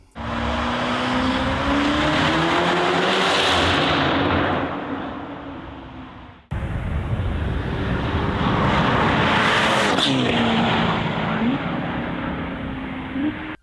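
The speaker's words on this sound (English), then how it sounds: "what you think of the exhaust note on the Portofino that Novitec have done?" A Ferrari Portofino with a Novitec exhaust roars past loudly with a deep, rasping exhaust, fading off, then another loud pass follows with the engine note dropping as it goes by.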